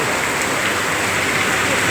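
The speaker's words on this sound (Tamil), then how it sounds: "மீண்டும் மழை வந்துக்கிட்டு தான் இருக்குது." Steady rain falls in an even, close hiss with no let-up, alone and fairly loud throughout.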